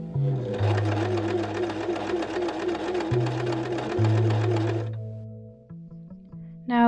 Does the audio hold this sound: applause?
no